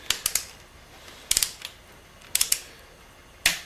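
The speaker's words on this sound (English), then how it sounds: "hear the wrench click. That means it's torqued to 45 foot-pounds." A torque wrench set to 45 foot-pounds tightens bolts while pistons go into a 350 small-block Chevy engine, giving crisp metallic clicks in short clusters of two or three, close and clear, separated by quiet pauses.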